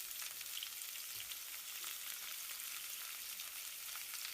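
Alu vadi rolls of colocasia leaf shallow-frying in oil over a low flame, a soft, even, continuous sizzle held at a low level throughout, with no talking.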